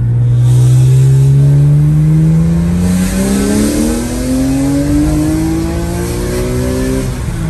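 BMW E46 engine revving hard from inside the car, a loud rising howl that climbs steadily in pitch through the revs with a smooth, continuous tone and no talking.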